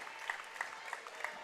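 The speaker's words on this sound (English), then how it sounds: "Nice round of applause for Chase as he played his butt off there." A high school basketball crowd at a Red Bud vs Civic Memorial game gives a short, faint round of applause for a player, scattered claps heard from a distance in a reverberant gym.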